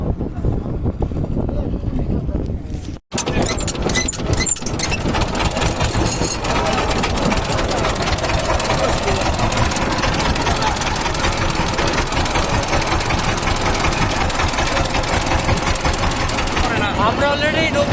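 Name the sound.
boat engine starting and running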